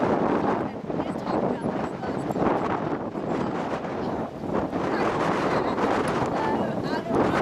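Strong wind blowing outdoors, buffeting the microphone in a continuous loud roar with gusty surges, close and unbroken throughout.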